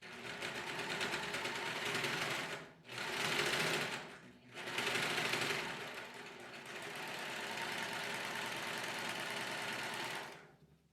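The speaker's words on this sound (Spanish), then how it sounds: "Vamos a pasar un filete por todo el contorno." A sewing machine runs steadily while an overlock edge is sewn around the outline of a girls' boxer short, with two brief pauses in the stitching before it continues at an even pace.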